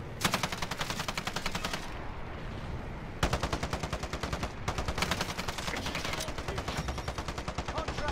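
Gunfire in the video game Call of Duty: Warzone: rapid automatic bursts of close, loud shots in steady rhythm, broken by a short pause and then resuming in long continuous strings.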